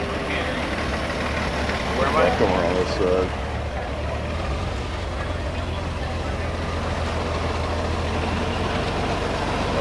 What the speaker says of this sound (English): I always like to hear the engines on these old machines.